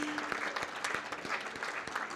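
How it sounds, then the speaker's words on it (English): Audience applause for awardees at an impact award ceremony, a steady wash of many hands clapping with a few sharper claps standing out, moderately loud with no voices. "Round of applause, ladies and gentlemen, for all the awardees."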